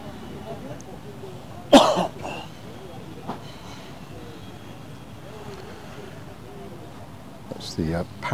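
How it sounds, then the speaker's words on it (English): A man sitting close by at a beach coughs, one sharp burst followed by a couple of fainter throat sounds later, over low background hiss, with no clear talk. "you can hear coughing."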